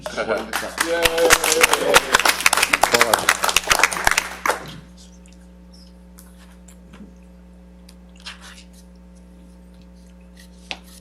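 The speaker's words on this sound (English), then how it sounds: "A round of applause for all this" A burst of audience applause at an IEEE panel discussion, loud dense clapping for about four seconds that cuts off abruptly, followed by a quiet room with a steady hum and faint scattered noises.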